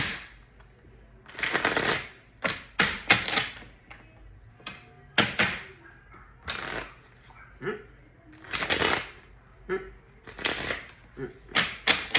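Stiff tarot cards being shuffled up close, repeated bursts of crisp riffling and flapping strokes separated by short pauses, with a voice speaking between them.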